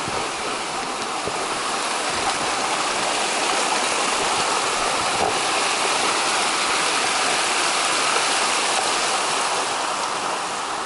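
Hagimit Falls on Samal Island, Davao, with its waterfall and stream, produces a steady, loud, close rushing of falling water that holds unbroken throughout.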